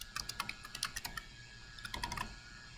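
Quick bursts of typing on a computer keyboard, irregular clusters of light key clicks with a short pause in the middle, quiet and close.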